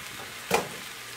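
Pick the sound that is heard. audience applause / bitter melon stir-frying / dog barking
bitter melon stir-frying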